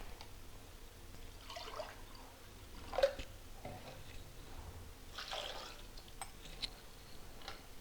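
Two to two and a half cups of water poured into a pressure cooker holding toor dal: two soft splashing pours, fairly quiet and close, with no talk.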